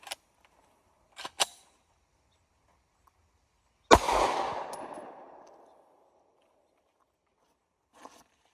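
A single loud PSA Dagger Compact pistol shot is fired downrange outdoors and echoes away over a second or two. Faint clicks and handling noises come before and after it.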